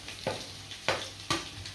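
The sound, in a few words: onion frying in a pan for chicken wings dish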